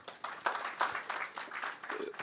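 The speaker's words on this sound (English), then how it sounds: "Can we clap for ourselves?" A gathering of Kenyans abroad, in the UAE, claps for themselves, a modest, uneven spatter of hand claps from a moderate-sized audience that swells in small bursts over a couple of seconds.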